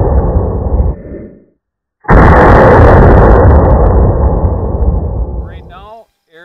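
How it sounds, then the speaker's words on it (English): An AR-15 rifle fitted with a three-prong duckbill muzzle brake fires a single loud, very close blast that booms and roars for several seconds before cutting off, with a louder sound just before it. "We threw on the three prong duckbill onto the rifle, and George is going to demonstrate this for us."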